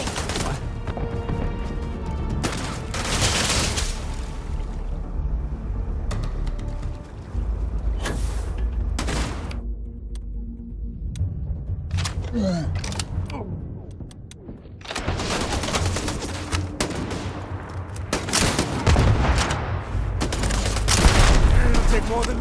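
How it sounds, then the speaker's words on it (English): Sci-fi gunfire in Starfield, bursts of rapid shots and heavy booms coming in uneven clusters with gaps between, loud and close, mixed with combat music, effects and occasional voices. "Just shoot everything!"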